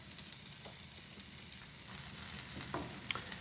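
Potatoes fry in a little butter in a Wards cast iron pan for breakfast hash, a soft, even sizzle that continues steadily throughout, with a few faint clicks and no voices.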